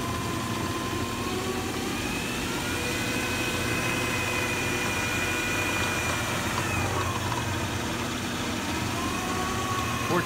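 8902SE one-wire alternator spinning on a test bench, with a steady mechanical whine and whirring hum over the constant drone of the bench motor, loud and even for the whole stretch.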